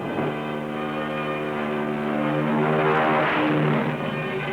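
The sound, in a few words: torpedo bomber aircraft engines taking off from carrier deck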